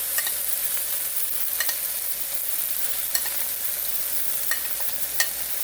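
Bacon with frozen peas and carrots frying in a pan for bacon fried rice gives a steady, close hiss of sizzling fat, with a few sharp clicks from stirring and no voices.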